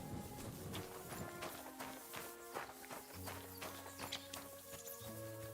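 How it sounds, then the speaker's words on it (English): Horse hooves clip-clop at a walking pace in the game Kingdom Come Deliverance II, steady repeated thuds over a continuous ambient bed with tonal music-like layers, moderately close and no speech. "Whose horse is this?"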